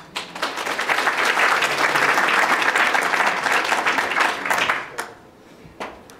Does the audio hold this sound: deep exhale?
no